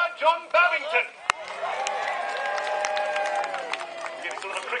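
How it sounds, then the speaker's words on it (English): A crowd at an outdoor event cheers and claps in brief bursts, followed by a sustained stretch of applause and whistling mixed with voices and babble. "Getting sort of a cricketing crowd."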